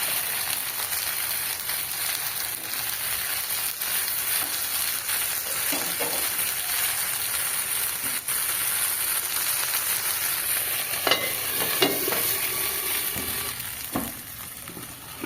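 Prawn patra wrapped in bottle gourd leaves fries in a pan with a steady, close sizzle and crackle that carries on evenly, with occasional soft clinks of handling and no talking.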